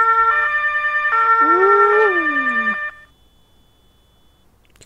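A two-tone siren from the farming video game Landwirtschafts-Simulator 19 blares close and loud, overlapped briefly by a rising and falling wail, then stops abruptly, leaving near silence.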